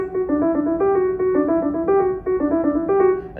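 Keyboard part played dry with no sustain pedal, a repeating pattern of short, detached chords and notes in a steady rhythm, close and fairly loud with no talking.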